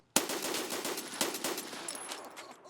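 Rapid automatic gunfire from a magazine dump in Escape From Tarkov, a dense, loud burst of closely spaced shots running without pause for over two seconds, with no talking.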